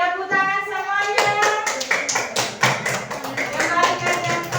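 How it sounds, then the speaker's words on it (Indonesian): A small group of elementary school teachers in a coding and AI training session claps together, quick close hand claps with taps and thuds over overlapping voices and tonal sounds. "tepuk tangan semuanya"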